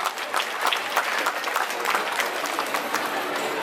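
Audience at a large festival celebration clapping loudly and steadily, a dense, even burst of applause with no talk.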